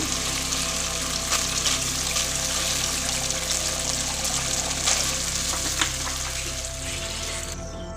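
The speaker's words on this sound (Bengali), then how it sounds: "এই সময় আমি খুব অল্প পরিমাণ গরম জল ব্যবহার করব।" A little hot water poured into hot oil and spices in a pan for a vegetarian mock-fish curry, producing a steady, close, hissing sizzle with trickling that eases slightly near the end.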